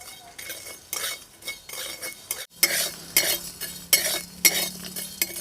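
Whole spices are lightly dry-roasted in a pan while a utensil stirs them, giving repeated scraping strokes and bright metallic clinks in an uneven rhythm, close up and with no talking.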